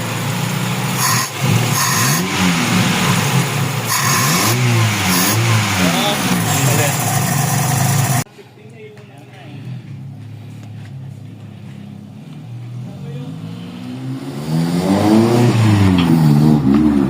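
A Honda hatchback engine being tested after a carburetor swap revs hard in repeated rising and falling surges, then drops to a low idle before climbing again, loud and close with voices talking nearby.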